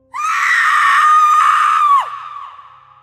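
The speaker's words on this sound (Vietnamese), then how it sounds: "Tiếng hét vang lên, cả Ngân lẫn Phong đều tỉnh giấc." A woman's long, loud scream of terror rings out in a Vietnamese ghost story, holding steady for about two seconds before breaking off into a fading, trembling tail, with no other voices present.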